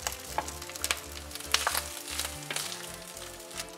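Cooked basmati rice is stirred into a hot, sizzling tadka in a pan, soft crackling fry noise with scattered scraping and clinking of the spoon, close and quiet.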